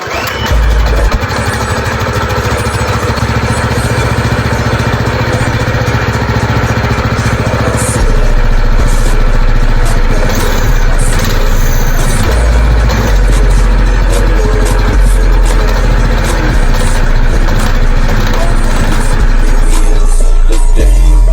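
A mini bike's small engine, left unused for a year and a half, fires up and keeps running with a steady, loud, close-up drone that roughens and grows heavier partway through.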